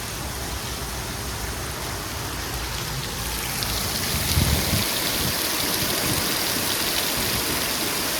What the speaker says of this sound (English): When the rain started, there was a bit of a thunderstorm